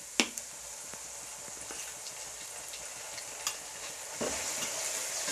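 Dried red chilli and cumin paste stirred into frying onions for a village-style mutton curry, a steady soft sizzle with a few scraping spoon strokes, close by and no talking.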